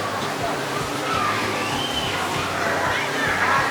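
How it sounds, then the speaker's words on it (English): Steady splashing and sloshing water at the Polar Aqua Park on deck 19 of the MSC Meraviglia cruise ship, a kids' pool and water slide area, with crowd and children's voices blended into a continuous wash of sound. "Deck 19, this is the Polar Aqua Park."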